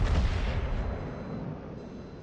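Naval gunfire in a warship video game: a single heavy cannon boom from a battleship's guns hits loudly, then rolls off into a long, slowly fading rumble.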